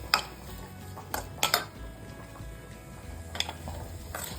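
Paneer pieces frying in a pan with salt, a spatula or spoon clattering against the metal in a few sharp scrapes and taps over a soft, low sizzle, close by.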